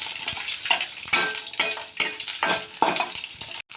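Vermicelli fries in ghee with a loud, continuous sizzle, punctuated by regular stirring scrapes every half second or so, close up with no voices.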